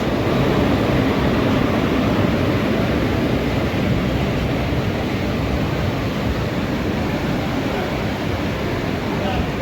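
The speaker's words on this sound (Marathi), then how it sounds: "जोरदार पावसात आपल्या ट्रेनची एंट्री झालेली आहे मित्रांनो।" Heavy rain pours down as the Tapovan Express, hauled by a WAP4 locomotive, arrives at a station platform, a dense, loud, even roar of broadband noise that barely changes throughout.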